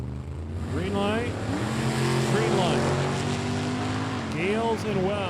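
A Ford Mustang and a pickup truck launch side by side at a drag race, engines revving and accelerating loudly with rising and falling tones while an announcer talks over them.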